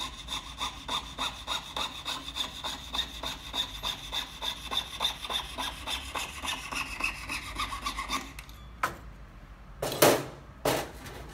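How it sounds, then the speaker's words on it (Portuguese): A hand saw cuts the tip of a 925 silver ring bar in quick, regular back-and-forth strokes for about eight seconds. A few louder scrapes and knocks follow once the sawing ends. "Eu vou serrar a pontinha, só para delimitar a marca."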